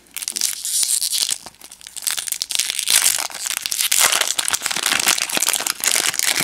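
1991 Stadium Club baseball cards are peeled apart from a fresh pack, giving a continuous close crinkling and tearing as the glossy cards unstick from each other.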